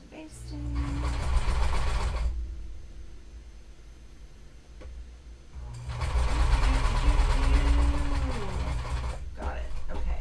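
Sewing machine basting a green trench coat, running in two long loud whirring bursts with a short quiet gap between them, close by.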